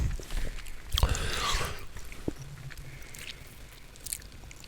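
Close, wet chewing and biting sounds right at the microphone, with crunchy clicks and smacks scattered over a few seconds.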